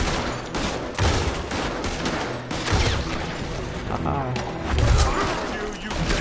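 Rapid gunfire from the Red Dead Redemption 2 video game, dense overlapping shots with heavy thumps, continuous and loud over six seconds, with a voice talking over the action.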